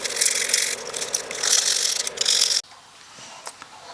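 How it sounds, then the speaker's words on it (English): Sandpaper scrubs the battery terminals on a BMW R1200GS motorcycle, making a loud, rapid rasping scratch for about two and a half seconds before it stops abruptly, leaving quiet with a faint tap. "I will clean them with a sandpaper really fast."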